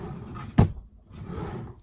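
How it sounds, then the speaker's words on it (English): A drawer bangs once as it is pushed shut, a single sharp knock over low room rustle and handling noise, in a quiet indoor space with no talking. "I guess I'll put it back in my drawer."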